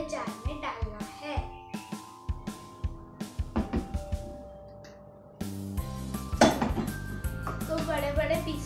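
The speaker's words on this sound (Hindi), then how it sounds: "अब हम लोग को इसे मिक्सी के जार में डालना है।" Mango pieces dropped into a steel mixer grinder jar in a home kitchen, making a series of clinks and knocks of metal and utensils, close and irregular, with a voice faintly in the background.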